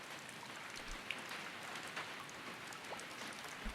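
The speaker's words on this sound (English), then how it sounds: "I heard the sound of rain pattering on the rooftop, and the raindrops jumping into puddles." Heavy rain patters steadily on a rooftop and splashes into puddles, a dense even hiss with scattered louder drops.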